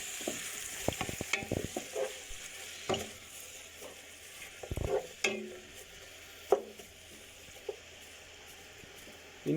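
Onions fry quietly in oil, a low soft sizzle broken by scattered scraping and stirring clicks from a utensil in the pan, with no talking.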